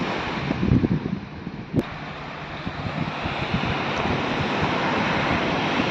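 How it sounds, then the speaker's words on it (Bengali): Sea waves wash onto an Andaman beach while a breeze blows across the microphone, making a continuous rushing surf under steady wind noise with a soft thump early on. "সাগরের ঢেউ"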